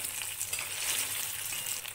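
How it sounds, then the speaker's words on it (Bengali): Paneer cubes frying in mustard oil in a wok give a loud, steady, dense sizzle that crackles continuously throughout with no voices. "পনিরগুলোকে বেশি ভাজার দরকার নেই, হালকা লাল লাল করে ভেজে নেব।"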